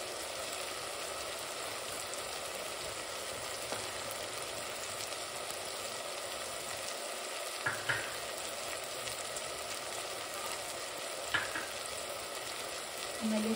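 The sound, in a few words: spices frying in a pan for vegetable biryani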